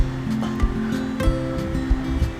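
Sea surf rolls at a quiet beachfront hotel on Koh Chang, a steady wash of waves with occasional soft thumps and a low tonal hum running beneath.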